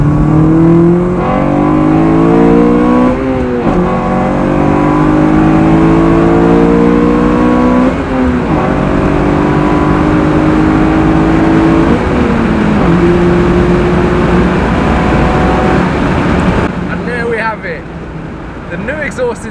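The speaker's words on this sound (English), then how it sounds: "The new exhaust is on, it's sounding sick, and the power band is so much smoother now." Honda Civic Type R FN2 fitted with a Scorpion exhaust accelerates hard. Its loud, close engine note climbs steadily in pitch through several gears, with short dips at each shift, before easing off near the end.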